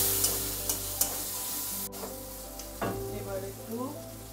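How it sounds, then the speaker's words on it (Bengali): Masala spice paste sautéed in a pan with a little water, giving a steady close frying sizzle with occasional stirring scrapes and clinks, a sharp click near the middle, and background hum throughout. "সামান্য একটু জল দিয়ে মশলাটা কষাবো।"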